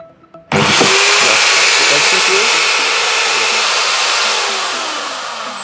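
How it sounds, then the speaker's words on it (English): Electric drilling machine wired as load 4 on a Wi-Fi smart switch home automation setup, starting abruptly with a sharp whine after a brief quiet moment and then running steadily and loudly, easing slightly toward the end. "load 4 is get connected with the drilling machines"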